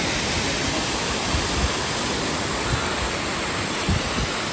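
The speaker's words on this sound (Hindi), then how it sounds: "कितना बड़ा वाटरफॉल है" Large waterfall on the Kedarnath trek in the Himalayas roars as a steady, dense broadband rush, loud and continuous throughout, with no voices over it.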